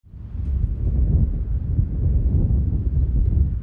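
Wind blows outdoors on a cool, windy day along quiet city streets, a continuous low buffeting rumble across the microphone that swells and eases slightly without any voices.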